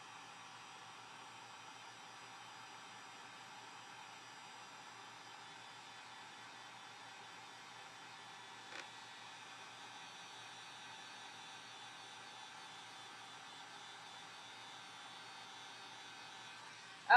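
Hair dryer on a low setting blowing over a paper mache box, a steady, even airy whoosh running unbroken throughout at moderate distance, with a single small knock midway.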